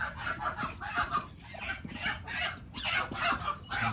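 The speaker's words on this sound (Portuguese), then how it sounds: "Um galinho brigando ali." A rooster clucking and squawking while fighting with other chickens outdoors on a small farm, with repeated harsh bursts of clucks, fairly near and loud throughout.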